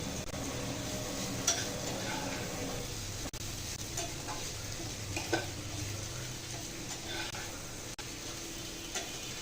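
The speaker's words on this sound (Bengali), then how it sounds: "এই যে আমার ঢেঁড়স ভাজি হয়ে যাচ্ছে।" Okra frying in a pan gives a steady, low sizzle with occasional soft clicks and scrapes of stirring, close and fairly quiet, with no talk.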